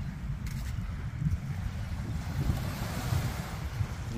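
Waves wash ashore at Banana Beach in Jubail, Saudi Arabia, with steady wind buffeting the microphone, a continuous low rumble of surf and gusts with no voices.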